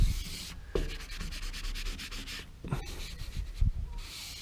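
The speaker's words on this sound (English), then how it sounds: "Now, take your squeegee and run over it." Plastic squeegee rubbed firmly over vinyl wrap film on a 1967 Gitchner military tool trailer, making a series of close scraping, rasping strokes with short pauses between passes.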